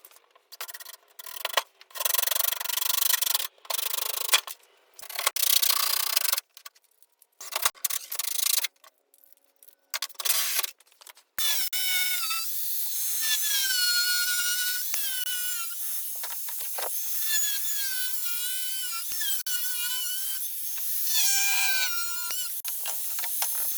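Harsh, close rasping and scraping strokes in short bursts, then a longer continuous grinding cut with a whining edge.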